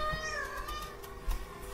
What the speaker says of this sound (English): There's my cat.